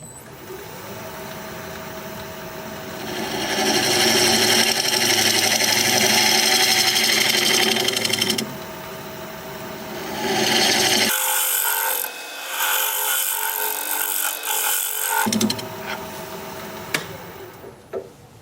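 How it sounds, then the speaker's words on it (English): A steady scraping rasp of a hand scraper against a healed-over branch section spinning on a wood lathe, continuous and fairly loud, changing tone partway through as the cut shifts, with a machine hum underneath. "Okay, I am going to use my scraper."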